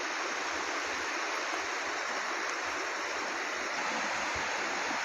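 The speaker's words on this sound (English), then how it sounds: "There's a beautiful river." A river flowing through a jungle, a steady close rush of moving water that stays constant and unbroken, with no voices.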